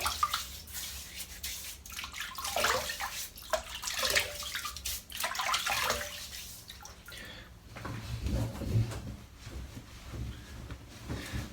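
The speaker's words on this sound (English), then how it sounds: "let's wet the head" Water splashing and trickling in a bathroom as a head is wetted before a shave, close and fairly soft with uneven scooping splashes, then a lower, muffled wash of water toward the end.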